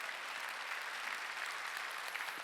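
A church congregation at a Wednesday worship service claps together, a faint, even wash of many hands sustained throughout, heard from a distance.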